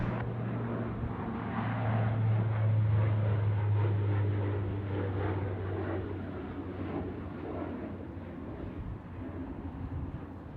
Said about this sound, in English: So there's the 767 freighter